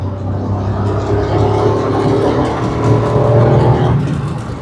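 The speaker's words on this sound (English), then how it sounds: "I'm now hitting the motorway, 4th gear." Suzuki Alto Works car accelerating in fourth gear on a motorway, a loud steady engine drone heard from inside the cabin, rising slightly in pitch with road and wind noise and no talk.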